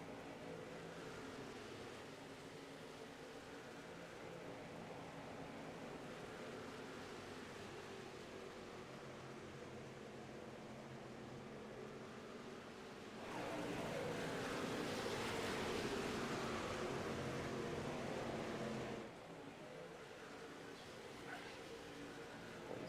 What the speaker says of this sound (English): It is so windy down here at the moment